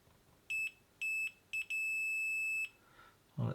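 A multimeter on continuity test, probing the wiring of a faulty RGB WiFi/Bluetooth studio light, gives three short electronic beeps, then a longer sustained beep, a clear high tone in a quiet room.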